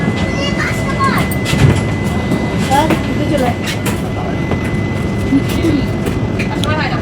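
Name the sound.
train departing station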